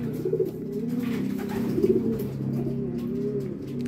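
Pigeons coo in low, throaty, rolling calls, several birds overlapping continuously and close by.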